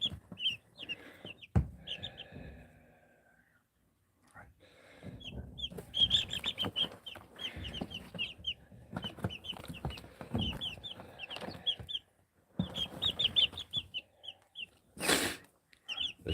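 Brahma chickens cluck and chirp in a farm coop, a scattered chorus of soft, moderately close calls with short quiet gaps and bursts of brief high peeps throughout.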